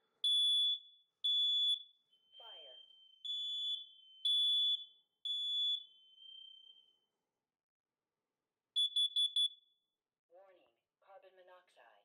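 A smoke alarm test sounds several loud, shrill beeps in an uneven pattern, then a quick triple beep, with a person speaking briefly near the end.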